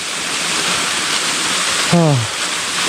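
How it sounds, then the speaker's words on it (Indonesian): Strong rushing water at a waterfall near Makassar makes a dense, steady roar throughout, with a short falling whistle-like tone cutting in near the end. "Ini kita lihat airnya daerah sini deras banget ya guys dibandingkan yang di sebelah sana"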